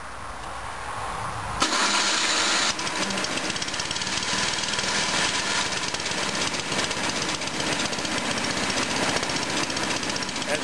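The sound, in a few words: electric-start snowthrower engine starting up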